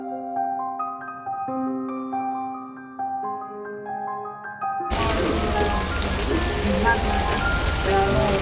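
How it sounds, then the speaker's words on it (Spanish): Heavy rain pours down in a city neighbourhood of Bucharest, a dense, loud and steady hiss with splashing drops, breaking in abruptly after a stretch of quiet melodic music. "Está lloviendo súper fuerte"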